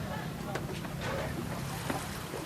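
A motorized sheet-metal pirogue with an outboard engine runs on the Pangalanes canal, a steady rushing drone of engine and water with wind buffeting the microphone, close and continuous.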